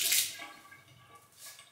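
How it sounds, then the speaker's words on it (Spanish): Water drips and splashes softly as a sponge is rinsed during a homemade flaxseed face mask routine, a brief wet spatter at the start and a fainter one near the end, with no talking. "Y ahora ya voy retirando de la cara, poco a poco, con el agua y aclarando la esponja."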